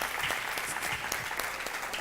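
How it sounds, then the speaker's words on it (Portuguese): Church audience clapping steadily to welcome Pastor Nélio, a dense, even round of applause throughout at moderate loudness. "A gente pode receber com uma salva de palmas."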